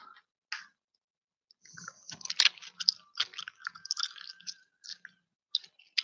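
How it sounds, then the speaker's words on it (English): Close chewing of green Haribo gummy bears, wet squishy bites and clicking mouth sounds in irregular bursts against near silence. "You ready for some gummy bear ASMR?"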